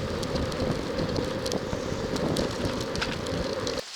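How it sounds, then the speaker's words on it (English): Heavy rain pours near Dumfries, Scotland, heard from a small bus shelter on a cycling trip, a loud, dense, continuous roar of drops with scattered sharper patters before it cuts off abruptly. "the rain has come on in abundance"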